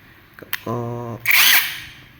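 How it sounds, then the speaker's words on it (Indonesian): An impact wrench spins up briefly with a buzzing motor whir, pauses, then fires a louder, harsher hammering burst, all close and alone after a few clicks. "Makanya fungsinya impact wrench ini untuk membuka baut."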